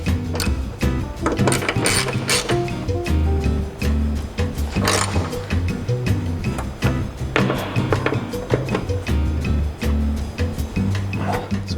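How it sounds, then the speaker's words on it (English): Nuts on the hood strut bracket of a Subaru BRZ are retightened with a hand ratchet, a close, busy run of quick clicks and taps with uneven rhythm that continues throughout. "Now you can go ahead and retighten both of these factory nuts here."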